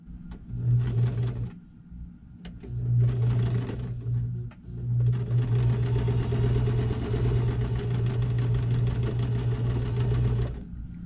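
A sewing machine stitches a seam in bursts, with short runs, brief pauses and then a long continuous run, the steady whirring motor close and clear with no talk over it.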